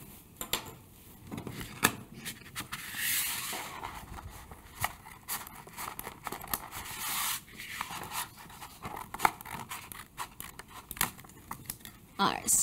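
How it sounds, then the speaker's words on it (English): Scissors snip through iron-on vinyl for a Cricut bucket hat design, a steady series of close, crisp cuts and rustling of the sheet continuing throughout. "I'm gonna go ahead and cut out the design here"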